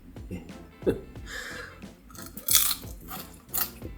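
Someone chewing and eating fried shrimp, with soft crunchy bites and wet mouth sounds spread across the moment, a few sharper crunches standing out, and a faint background voice underneath.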